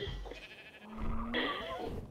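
Sheep in the video game ARK bleats once in a rising, wavering call near the end, preceded by softer farm-animal sounds, close and fairly quiet with no talk.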